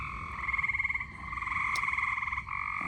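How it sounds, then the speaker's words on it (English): Many frogs croak together at night during a thunderstorm in Troy, Illinois, a dense pulsing chorus of rapid trills that swells and dips steadily with no talk over it. "the frogs are happy tonight"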